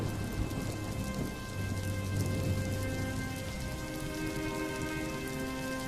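Heavy rain pattering on surfaces during a cartoon storm, with low rolling thunder rumbling beneath the steady downpour; continuous and fairly loud, no speech.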